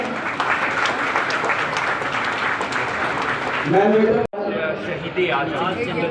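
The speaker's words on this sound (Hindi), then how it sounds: "सम्मेलन में बहुत बढ़िया खड़े होकर तालियों से अभिनंदन करें" A conference audience gives a standing ovation, dense clapping running steadily throughout while a voice speaks over it near the end, with a brief dropout before the clapping resumes.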